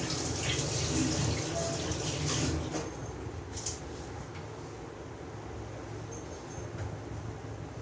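Water runs from a tap as something is washed under it, a steady close rushing hiss that is a little louder at first and then settles, with no talk.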